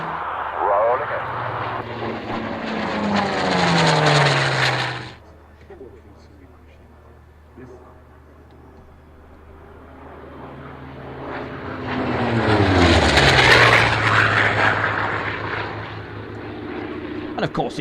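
A Hawker Sea Fury piston fighter flies a display at Duxford, its engine roaring loud in a close pass, fading away, then building again into a second loud pass with a falling pitch sweep; a voice talks briefly.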